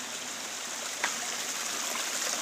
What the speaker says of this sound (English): Look at all this water floating.